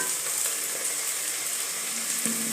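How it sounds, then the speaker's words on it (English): Garlic frying in a pan gives a steady, loud, close sizzle that holds without a break, with faint stirring and no voices. "So I'll put the garlic, then I fry"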